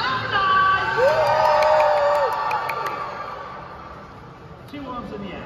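A lively crowd shouting and cheering together, loud and sustained at first, then thinning into scattered whoops and chatter.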